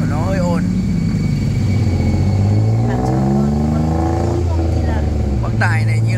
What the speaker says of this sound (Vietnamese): cái xe mà đang ngồi đây là xe lam, xe đò, thế nên là cái động cơ với cái tiếng nó hơi ồn